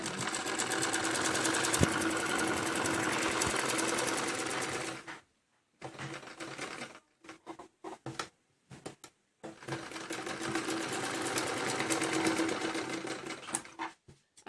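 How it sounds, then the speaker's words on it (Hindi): A sewing machine stitching a baby dress runs in a fast steady whir, stops briefly, then resumes in short stuttering bursts before running continuously again, close and alone. "करीब 3 से 4 इंच से हटा के और तब सिलाई को लगाना है।"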